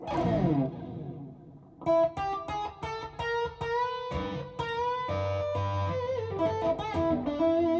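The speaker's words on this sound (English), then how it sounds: "But the delay is not running to the reverb. They're running in parallel." Electric guitar playing chords and single notes through delay and reverb effects running in parallel, ringing out with long smeared tails that overlap each note, loud and close with no talking.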